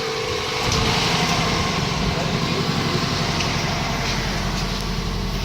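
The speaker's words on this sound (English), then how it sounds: "We got a misfiring 4-cylinder Camry. You can see the roughness." Misfiring four-cylinder Toyota Camry engine idling roughly, a loud, steady, close rumble with an uneven, lumpy pulse running the whole time.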